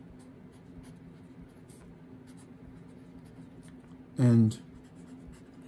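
A pen scratches faintly while someone writes out a research question during a lecture, the quiet writing sounds running under the voice of a person speaking.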